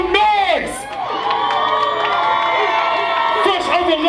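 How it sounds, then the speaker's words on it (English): A crowd at a Chicago R&B concert on the Lovers and Friends tour cheers and whoops loudly throughout, with shouting voices layered over a steady roar and likely clapping mixed in. "clap it up, make some noise"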